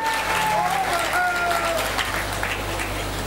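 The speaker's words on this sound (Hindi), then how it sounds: "आप जोरदार ताली बजा के इसका स्वागत करिए।" Hearty clapping from a gathered audience at a Jain religious assembly in India, a continuous dense roar under a steady hum, with voices sounding over it.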